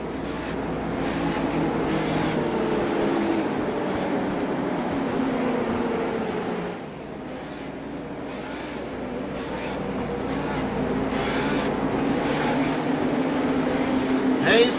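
Legends race cars at Concord are bunched behind the pace car for a restart. Their engines make a continuous droning roar that dips briefly midway, then swells again and grows louder toward the end.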